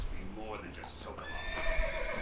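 A horse in Metal Gear Solid 3 neighs with a wavering whinny over game sounds, while a voice speaks across the clip.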